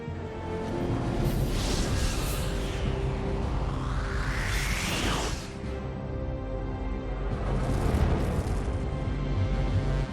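A Stargate hyperspace window activates with a loud, sustained sci-fi rumble overlaid by sweeping whooshes that rise and fall, followed by a second swelling roar, with no speech.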